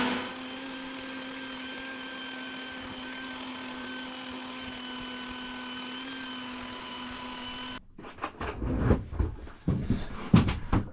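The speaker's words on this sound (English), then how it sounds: "It's the Home Depot bucket vacuum." A Home Depot bucket vacuum cleaner runs with a steady whining hum during cleanup aboard a Catalina 30 sailboat, then cuts off abruptly, followed by clunking handling noises nearby.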